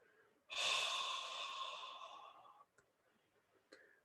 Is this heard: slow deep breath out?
yes